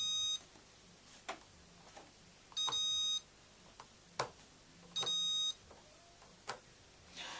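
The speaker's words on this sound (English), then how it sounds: "I've just got my multimeter set on continuity to check it all. So put one on the plus, so every time I touch a red it should beep." A multimeter on its continuity setting gives three sustained electronic beeps, each about half a second long and evenly spaced, as probes touch the positive terminal during soldering checks. Brief clicks and taps fall in between, with no talking.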